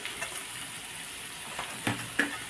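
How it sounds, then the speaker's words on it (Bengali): Peas, cashews and raisins fry together in ghee in a pan, giving a steady soft sizzle with a couple of sharper crackles and stirring scrapes near the end, heard alone and close. "এবার এগুলো একসাথে ভালো করে ভেজে নেব"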